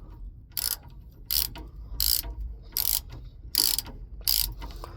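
A ratchet wrench tightens T bolts on the upper steering column of a 1976 Ford F100, giving six evenly spaced bursts of sharp, close clicking over a low background hum.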